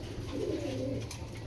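A pair of caged giribaj pigeons, a male and a female, coo softly in a low, murmuring burst, fairly faint and close, with no other sound over it.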